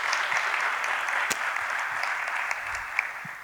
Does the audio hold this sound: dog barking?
no